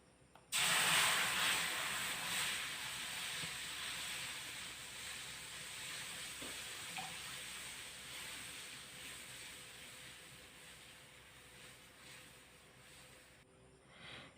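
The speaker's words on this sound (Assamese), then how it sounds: "এতিয়া মই গাখীৰ দি দিওঁ" One litre of Amul fresh milk poured into a heated kadhai on a gas stove, raising a sudden loud, steady hiss that fills the clip before easing toward the end.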